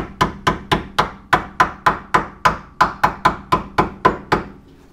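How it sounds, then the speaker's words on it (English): A soft tip hammer taps a steel brake line clip into place on a C3 Corvette front brake line, about fifteen steady, evenly spaced sharp knocks, close and fairly loud, with no talking. "Use the soft tip hammer to tap it in."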